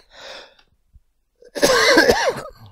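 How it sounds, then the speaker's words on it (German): A person coughs once, loudly and close, in a harsh burst with a rough, rasping tail, after a brief breath and a short quiet pause. "Entschuldigung mit dem Husten."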